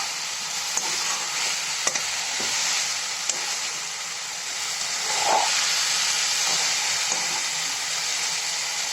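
Cauliflower, peas and potato masala sautéing in a pan give a steady, close sizzle and hiss of frying, with soft stirring scrapes and a few light clicks throughout.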